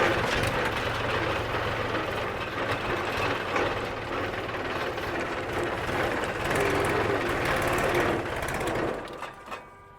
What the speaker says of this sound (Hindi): हम बढ़िया मस्त ट्रैक्टर चला रहे हैं।